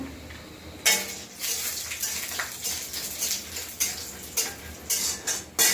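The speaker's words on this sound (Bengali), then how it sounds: "প্রথমে বড়িটাকে ভেজে নেবো তেল দিয়ে, যে কড়াই গরম হয়ে গেছে" Bori lentil dumplings fry in hot oil in a kadai: a soft sizzle runs underneath while a spatula scrapes and clinks against the metal pan in repeated, irregular strokes, close up.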